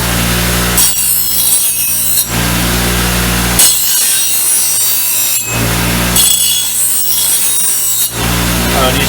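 Blades sharpened by hand with a file or rasp, loud rhythmic scraping strokes in three long passes separated by short pauses, close and alone.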